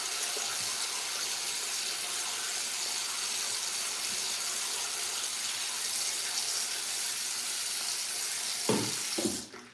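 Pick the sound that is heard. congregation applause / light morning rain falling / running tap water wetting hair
running tap water wetting hair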